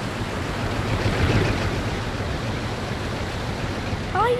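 Broad, steady rush of moving river water fills the whole span at an even, fairly loud level, with no talk over it and a few faint high chirps near the end.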